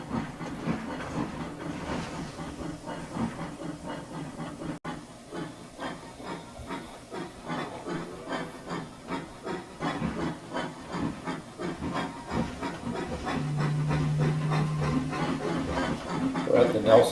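Steam freight train number 79 in the Trainz simulation, a third-class freight leaving Nelson West End Yard on the 1902 C&KR line: a steady chuffing, hissing locomotive with rhythmic exhaust beats and a sustained low tone near the end.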